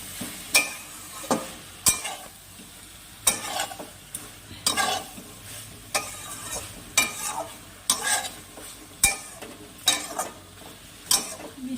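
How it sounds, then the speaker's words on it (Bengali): A spoon scrapes through potatoes just added to drumstick curry (sajne data chorchori) frying in a pan. About a dozen rhythmic stirring strokes cut across a soft sizzle, close and clear, with no one talking. "এবার আমি আলুগুলো দিয়ে দিলাম। দিয়ে ভালো করে মিশিয়ে নিব।"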